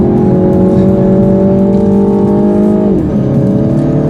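A small car with a CVT transmission accelerates hard, its engine droning at a steady high pitch from inside the cabin, then the tone drops briefly and settles back into a sustained loud whine.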